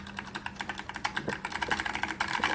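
Rapid, crisp clicking of keys on a white SolidTek ASK-6600C mechanical keyboard with ALPS switches, a fast irregular run of chunky keystrokes heard close and alone.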